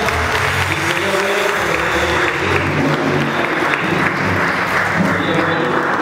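A church congregation applauds loudly and vigorously at a Mass, with dense clapping and crowd murmur filling the room close up and continuing for several seconds.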